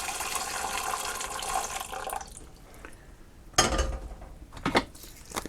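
Tap water pours steadily into a pan for boiling miniature new potatoes in a narrowboat galley, a continuous splashing rush that stops, followed by a few close clinks and drips.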